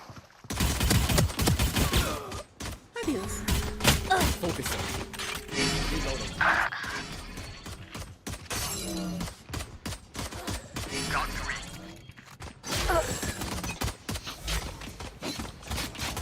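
Rapid bursts of gunfire in the tactical shooter Valorant, dense and loud across the whole stretch, with short pauses between volleys and game voice lines breaking in now and then.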